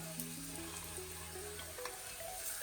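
A crushed spice mix frying in a pan for a Kerala-style curry gives a steady, close sizzle that runs the whole time. No one speaks.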